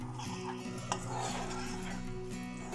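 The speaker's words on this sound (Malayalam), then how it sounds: "ഇതിലേക്ക് 1 ടീസ്പൂൺ ടൊമാറ്റോ സോസ് ഒഴിച്ചിട്ട് മിക്സ് ചെയ്യാം." A spoon stirs tomato sauce into a thick mixture in a pan on low flame, giving soft scraping and light clinks, quiet and close, with a faint sizzle beneath.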